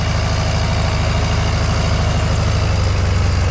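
Turbocharged 1983 GMC Squarebody six-cylinder engine with a brand new turbo idling in a shop, a loud, steady low rumble with even rapid pulsing throughout, close and alone.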